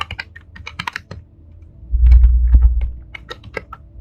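Close computer keyboard typing comes in quick bursts of clicky keystrokes with brief pauses, and a low rumble swells briefly in the middle.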